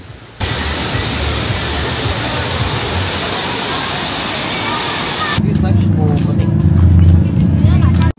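A waterfall on the Bolinao River in Pangasinan roars as a loud, close, steady rush of water that continues unbroken, with a low rumble joining in toward the end.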